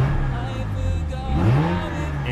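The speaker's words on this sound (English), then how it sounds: "Engine revs really good." A Mazda RX-8 engine revs once, climbing sharply in pitch midway through and then settling back to a steady idle, loud and close throughout.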